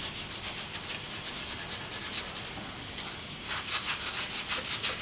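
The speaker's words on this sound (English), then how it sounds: "Just rub them in with a cotton cloth." A cotton cloth rubs linseed oil into a small hatchet in quick, steady back-and-forth strokes, making a close, scratchy hiss with no talk.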